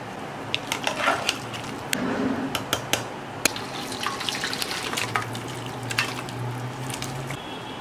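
Mutton curry fries in a pan just after garam masala goes in, a steady close sizzle broken by scattered stirring clicks and scrapes of a spoon.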